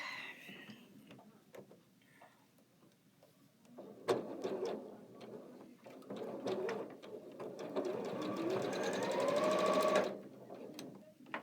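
A sewing machine stitches quilt pieces held with pins. It gives a close, steady mechanical whir with ticking stitch clatter, starting in short runs and then building into one longer, faster stretch before stopping. Faint talk is heard near the start.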